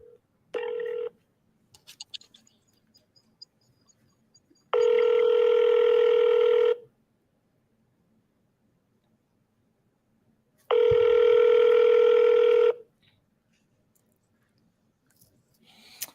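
Outgoing telephone call: a short dial tone burst, faint keypad clicks, then two long loud ringback tones several seconds apart, with silence between and no talking.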